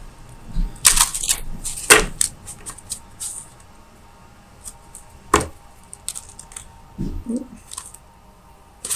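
Soft papery shuffling of tarot cards with a few sharp flicks and snaps, intermittent and close, with quiet pauses between.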